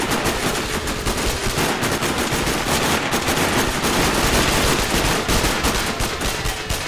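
Rapid machine-gun bursts and overlapping gunshots in a video game gunfight in Sniper Ghost Warrior, loud and sustained with dense rattling fire throughout and no talking.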